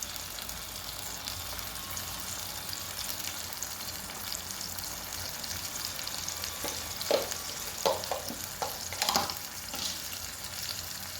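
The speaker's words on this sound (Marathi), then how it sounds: "तर हे चांगलं परतून घेऊ आपण मसाला" Spice masala with asafoetida sautés in oil for a Rajasthani cauliflower dish, a low steady sizzle with a few sharper stirring scrapes and clinks near the end.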